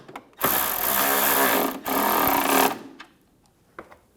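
A power tool whirs loudly and steadily for about two seconds, pauses briefly, then runs again as it snugs down a bolt on a 2009-2013 BMW 328i xDrive during windshield washer reservoir replacement, followed by faint clicks.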